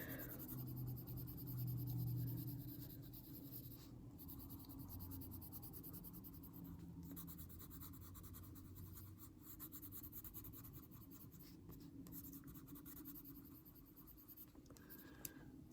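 Soft, steady scratching of a nearly used-up colored pencil shading on paper during adult coloring, quiet and close, with continuous strokes and small pauses.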